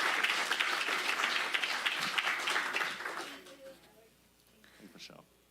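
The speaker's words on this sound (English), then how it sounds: "another final round of applause" Applause from the audience at a county supervisors' meeting, a strong burst of clapping that fades out midway and gives way to quiet room sound with a few faint voices.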